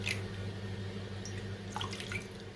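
Water pours from a spice bowl into a pan of stuffed small eggplant masala, making faint, brief splashing and trickling sounds late in the clip over a low steady kitchen hum.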